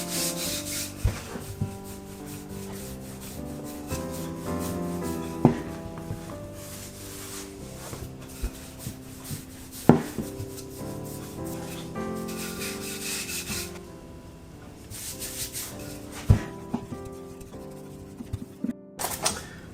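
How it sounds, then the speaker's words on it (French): A rolling pin rolls cookie dough for traditional Alsatian Christmas cookies across a floured work surface, making repeated close rubbing and scraping strokes with occasional sharp wooden knocks and brief pauses. "à l'aide d'un rouleau, je vais l'abaisser jusqu'à une épaisseur de 4 mm"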